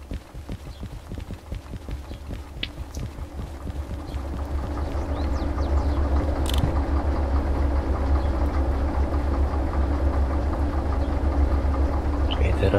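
A train locomotive shunting in the Derail Valley railway simulation game, with rhythmic clattering wheel and coupling knocks giving way to a steady low rumbling engine drone that builds and holds.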